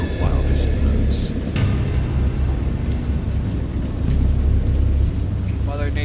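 A video game thunderstorm: steady heavy rain hisses over a low, continuous rumble of thunder, with occasional brief tones and a distant voice in the mix.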